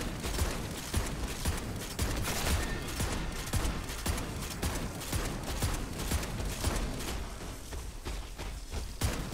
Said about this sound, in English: Come on, sentry, keep shooting.